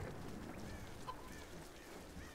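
A chicken clucks in the Tomb Raider (2013) video game, with short fowl calls repeating over a dense, steady wash of game ambience.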